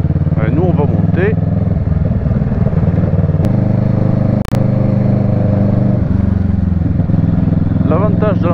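A motorcycle rides through the countryside near Lauzerte, its engine droning loud and steady with low rumbling tones and occasional gear-change blips, a brief sharp knock midway, heard up close from the rider's position while people talk over it.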